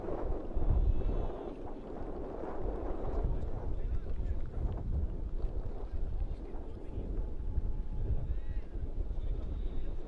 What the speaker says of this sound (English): So there's a bit of wind here at Bowling Park.